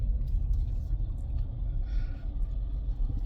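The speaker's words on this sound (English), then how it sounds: "you move that big ass truck out of the way" A big truck rumbles nearby, a continuous low engine drone with steady road noise and no voices.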